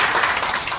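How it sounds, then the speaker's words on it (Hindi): Applause at a political gathering welcoming a guest: a brief burst of many hands clapping together, fairly close and steady, with no one talking over it. "जरा तालियां बजाकर स्वागत।"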